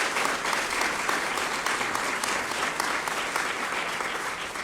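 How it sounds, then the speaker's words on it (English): Dense, steady applause from an audience at a Ruth's Chris Steakhouse 50th-anniversary opening bell ceremony, loud and continuous throughout with no voices over it. "So how about a round of applause for Ruth?"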